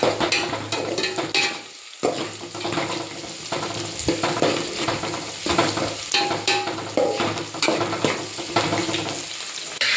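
Beans stirred into red onions frying in a pan for Karnataka-style avarekalu sambar, a steady close sizzle with repeated scraping stirs and clinks throughout, a brief lull near the start.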